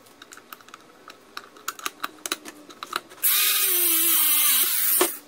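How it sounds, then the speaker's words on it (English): Universal wrench working loose rusty mounting hardware on a game controller, a run of small irregular clicks and ticks followed by a sustained harsh whirring grind that ends abruptly. "So I'm going to get a universal wrench and take that out."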